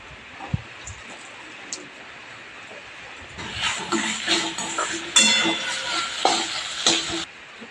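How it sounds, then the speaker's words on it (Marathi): Chopped onion and tomato dropped into hot oil sizzle steadily in a pan, with a quiet start followed by louder frying and a few stirring scrapes and clinks close by. "तेल गरम झालेलं तेलामध्ये कांदा आणि टोमॅटो सर्व टाकून व्यवस्थित तेलामध्ये भाजून घेतो"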